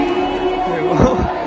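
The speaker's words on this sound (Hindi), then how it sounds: "बाकी ये देखिए भीड़ कितनी है," A crowd murmurs and cheers at a Lucknow Super Giants IPL cricket practice match at Ekana Cricket Stadium in Lucknow, a loud dense hubbub close by with someone talking over it.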